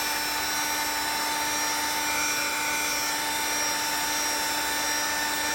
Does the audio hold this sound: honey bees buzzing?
no